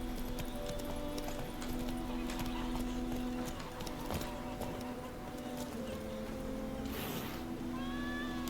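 The horse Roach trots with steady clip-clopping hooves in the Witcher 3 video game, the rhythm sitting under a constant ambient hum, with a brief high whoosh near the end.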